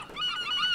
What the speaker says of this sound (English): Oh, the seagull taunt.